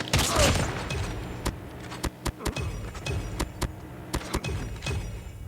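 Turret fire in a first-person shooter video game, a series of sharp, evenly spaced shots over steady game background noise, fairly close and loud.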